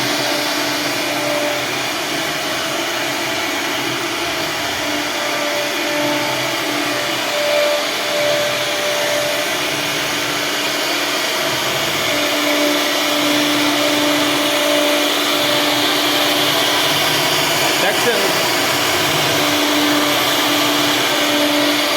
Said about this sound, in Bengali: এটা মেশিন দিয়ে তৈরি করছে আপনার এটা সিএনসি মেশিন বলে